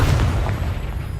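A Confringo blasting spell goes off in Hogwarts Legacy, a heavy, sustained booming explosion with deep low rumble that fills the moment, loud and close, with no talk over it.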